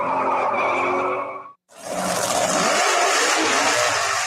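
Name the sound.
dragster going down the road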